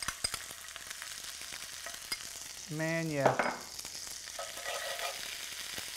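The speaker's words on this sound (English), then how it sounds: "Wow, listen to that sizzle." Steak frying in a pan with butter and fresh pesto paste gives a continuous crackling sizzle, close and steady, while someone briefly speaks partway through.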